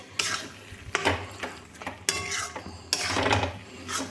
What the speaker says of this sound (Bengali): মৌরি জিরে পেস্ট করা এখানে দিয়ে দিলাম এবার এটাও ভালো করে নেড়ে চেড়ে নিতে হবে